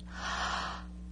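A deep abdominal inhale taken while lying on the floor during a breathing exercise, a single steady airy breath swelling and fading over about a second over a low constant hum, with no talking.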